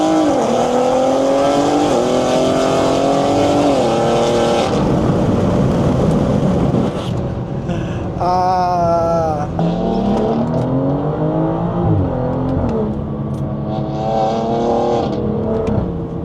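A BMW 340 with a B58 engine and stage 2 tune pulls hard on the highway, rising through repeated gear changes with a loud, continuous engine drone and rushing road noise heard from inside the car.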